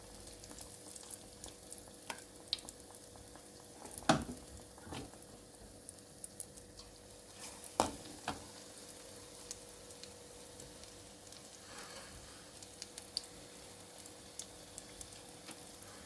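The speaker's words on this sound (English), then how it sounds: "This is the karpooravalli bhaji that I was frying." Karpooravalli leaf bhaji frying in hot oil, a faint, steady sizzle with soft crackles and a couple of louder clatters, heard up close without talk.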